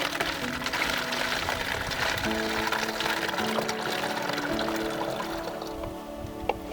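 Water pours from a large 5-liter jug into a bottle on a mountain hike in Morocco, a steady close gurgling stream with the pitch rising as the bottle fills over several seconds.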